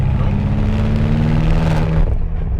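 A BMW F10 M5 engine revs hard while driving, a loud, steady and deep mechanical roar that sits close for the whole span and eases a little near the end.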